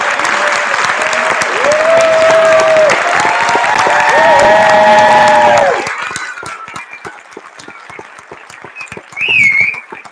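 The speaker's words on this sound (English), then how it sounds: "why don't you come back out so we can give a big round of applause" Loud audience applause for schoolchildren at a school district board meeting, with whistles and cheers over the clapping, then fading to scattered claps and a brief whistle.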